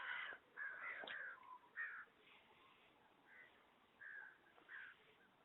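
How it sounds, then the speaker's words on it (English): Several crows cawing in harsh bursts spread through the stretch, some calls closer and louder, others fainter, with quiet gaps between them and no talking. "No crows anywhere else right now."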